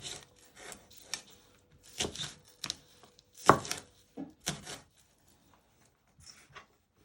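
A knife slices spring onion on a cutting board in a series of close, crisp cuts and taps, irregularly spaced with quiet pauses between, the last strokes fainter.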